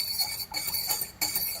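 Apple pie filling with cornstarch being stirred in a pot, a soft scraping and clinking of a utensil with brief gaps, close and fairly quiet.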